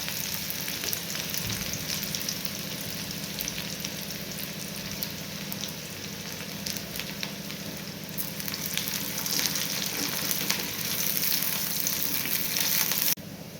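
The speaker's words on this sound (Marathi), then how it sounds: "त्यात थोडासा जिरा टाकून घेऊ कांदा लाल होईस्तवर परतायचा आहे" Onion sautéing with cumin in hot oil for spicy Kolhapuri misal, a dense, even sizzle with faint stirring scrapes, steady and close, cutting off abruptly at the very end.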